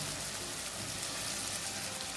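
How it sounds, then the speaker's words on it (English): Steady, loud sizzling fills the clip, a dense crackling hiss of chicken frying in a hot pan as liquid is poured over it, with no voices. "Just pour this over that and watch it sizzle"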